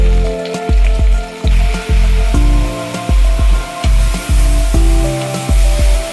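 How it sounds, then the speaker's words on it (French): Leeks sautéing in a layer of oil in a pan, a loud, steady sizzle with rhythmic clattering strokes of a utensil repeating about twice a second, close up and without speech. "On va les faire revenir à peu près pendant 4 à 5 minutes."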